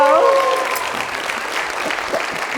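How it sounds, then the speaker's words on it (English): An audience applauds steadily, a dense wash of clapping that continues throughout while a voice briefly trails off at the start. "One more hand, Reginald and Claire."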